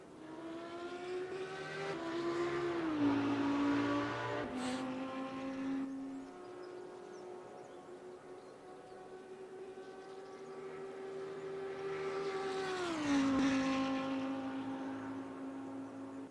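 Race cars in the GT racing game at Bathurst, engines whining as they pass close by with rising and falling pitch on two passes, a quieter engine drone between them and no talking.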